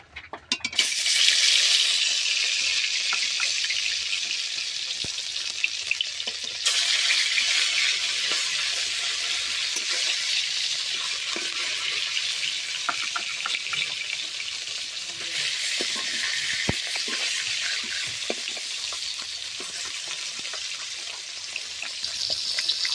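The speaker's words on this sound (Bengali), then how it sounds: "এরপরে লাল লাল করে ভেজে নেব" Pieces of Bhola fish frying in hot oil in a pan, a loud, dense, continuous crackling sizzle close up that swells in bursts and carries on unbroken, no voices.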